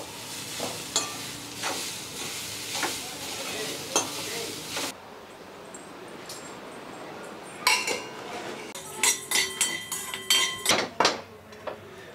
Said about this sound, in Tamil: மாங்காய் சாதம் கிண்ட இதுதான் கரெக்டாக இருக்கும்